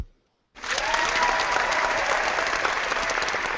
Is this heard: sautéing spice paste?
no